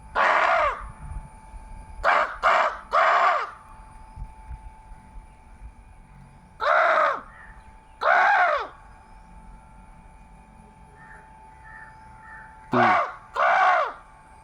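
Harsh caws from crows in short bursts, single and paired, spaced out with long quiet gaps and a steady hum underneath.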